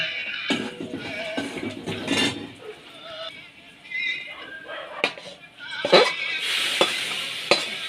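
A taro leaf dish is stirred in a pan over medium heat with a soft sizzle, and a spatula scrapes and knocks against the metal at irregular intervals. Faint voices murmur in the background.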